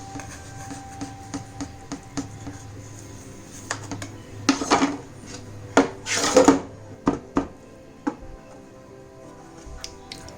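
Chilled, set dough is sliced into pieces on a board, giving a run of sharp knife taps and light scraping clacks that cluster midway through, fairly close and with no talk.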